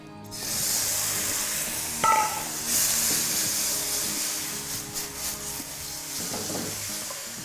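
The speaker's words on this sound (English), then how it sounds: "it needs to sizzle" Hot oil and spice paste for chicken rendang sizzle loudly and steadily in a pan, with a spoon scraping and stirring through the hiss now and then.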